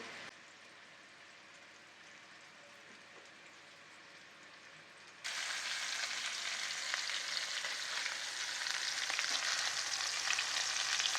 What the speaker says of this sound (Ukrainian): Котлетки я обсмажую з двох сторін.